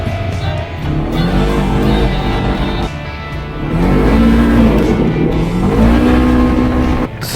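A Polaris RZR Trail engine revs hard and drones steadily as the stock tires churn over wet grass, the pitch rising and falling with throttle, loud and close with little else heard.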